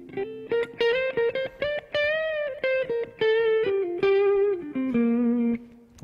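Clean notes from an electric guitar, a Jackson seven-string, through a Blackstar HT-1RH amp with reverb: a short melodic run of distinct plucked notes with ringing overtones, close and loud, no speech.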